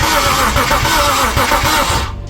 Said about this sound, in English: You guys saw that the engine is cranking.